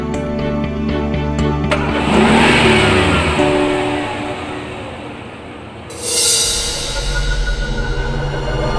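A car's engine revs up and pulls away in a rising roar, fades as it drives off, then another loud surge of engine and road noise sweeps in near the end.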